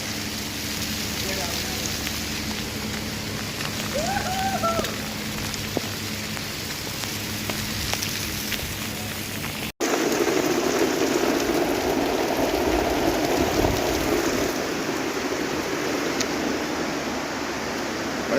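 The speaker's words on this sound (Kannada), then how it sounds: "ಇಷ್ಟೊಂದು ಮಳೆ ಬರ್ತಿದೆ" Heavy rain pours down in a steady broadband wash, with people talking over it during the first half before the downpour continues alone and slightly louder.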